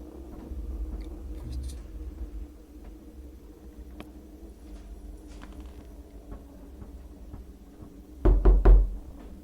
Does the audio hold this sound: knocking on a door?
yes